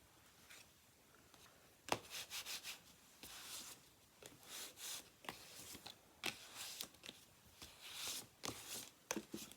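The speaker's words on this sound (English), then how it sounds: "Gonna give that a burnish." Burnishing a wooden garden box by hand, a series of short, dry rubbing strokes in irregular bursts, close and fairly quiet, with no voices.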